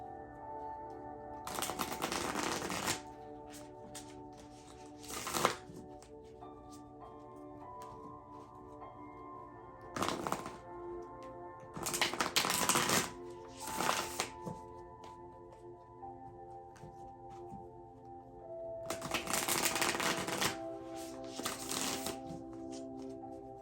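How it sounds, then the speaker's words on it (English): Tarot cards are shuffled in several distinct bursts of riffling and flicking, close and fairly quiet, separated by pauses of soft handling with no talk. "So now let's draw our cards for the week."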